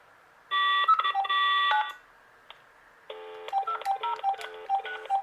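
An old thrift store telephone handset plays DTMF dialing tones: one long multi-tone burst, a pause, then a rapid sequence of short key-press beeps, close and clear with no talk.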